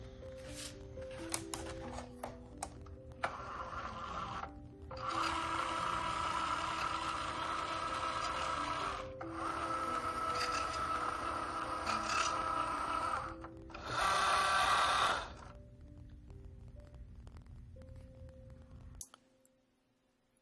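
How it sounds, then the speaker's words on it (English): A Cricut Joy cutting machine loads its cutting mat in steady motorized runs, with brief pauses between mechanical whirring passes and one louder burst near the end before it falls quiet. "Now I have to load my machine."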